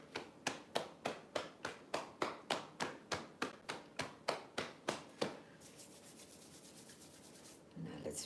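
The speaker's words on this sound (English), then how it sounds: "Let's rub our fingers through our hair." Fingers rub through hair during a tai chi exercise: a few seconds of close, soft, hissing scratching follow a run of evenly spaced light pats, and the clip ends with a brief, louder rustle.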